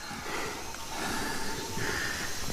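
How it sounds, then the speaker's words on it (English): A wild monkey gives a soft, breathy, coughing snort after being struck by a poison dart, faint and alone against quiet forest background. "It's a bit of a coughing sound the monkey makes"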